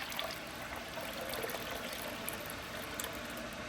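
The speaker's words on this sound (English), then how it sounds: "I have my strainer here. I'm gonna go ahead and pour this in." Ginger beer liquid pours steadily through a strainer, a continuous soft trickling and splashing at close range with no voices.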